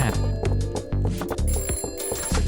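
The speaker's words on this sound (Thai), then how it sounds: "โทรศัพท์มาครับ" An in-game telephone rings in Kardboard Kings, a card-shop game, with repeated bright bell-like trills pulsing over busy background music, no talking.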